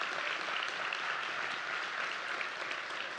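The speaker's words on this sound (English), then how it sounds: "Can we give them a big round of applause?" Steady, even applause from an audience at a leadership luncheon after a pop performance, lasting the whole stretch at a moderate, distant level with no voices.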